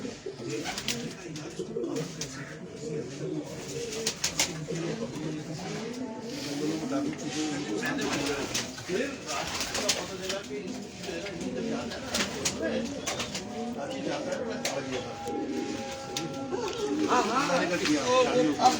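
Pigeons coo repeatedly in the background, low and soft, with steady human chatter and other ambient noise running through.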